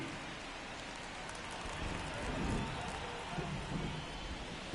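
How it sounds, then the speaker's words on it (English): Rain falling steadily on a baseball game in MLB 24, a constant wash of hiss and patter under a commentator's voice, ending in a sharp knock. "This rain is not letting up."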